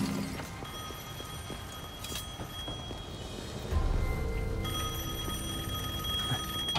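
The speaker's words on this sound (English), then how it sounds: "I guess the phone still works." Ringing of a telephone in the action video game Devil May Cry V, heard as sustained bright bell tones over a soft game background, with a louder low rumble joining partway through.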